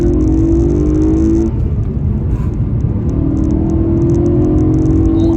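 A BMW M3 E92 with a V8 engine accelerating, its steady, loud engine drone holding close and continuous throughout, with the pitch climbing in two surges.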